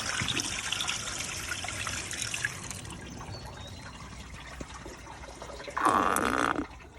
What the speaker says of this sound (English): So you hear that gurgling noise here?